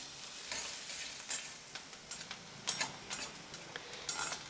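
Chopped onions fry softly in oil, a faint steady sizzle with occasional stirring scrapes and ticks from a utensil against the pan.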